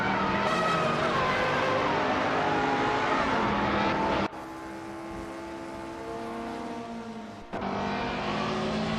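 A 1986 Ferrari 308 GTS races in a video game, its engine droning steadily at high revs with tire noise and brief gear-shift drops, close and continuous throughout.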